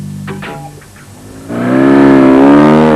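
A Works BMW flat-twin rally motorbike at a Dakar Rally stage start goes from a low idle to a loud, sustained rising rev close by, its harsh engine note climbing and holding for the rest of the moment, with no talk.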